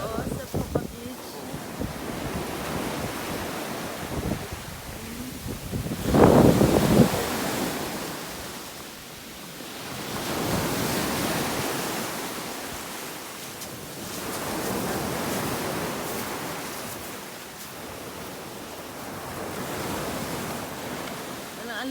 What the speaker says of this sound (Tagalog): Ang lakas lang ng alon